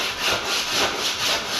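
Coarse 80 grit sandpaper rubbed across the grain of a tank during rough-in sanding, a close, steady scratchy rasp repeating in even back-and-forth strokes about twice a second.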